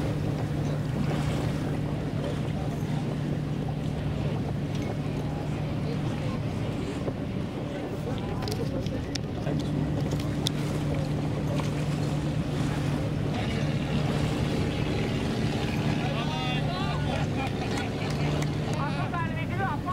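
A small boat travels along the Zakynthos coast toward the Keri caves. A steady engine hum runs under wind buffeting and splashing water the whole time.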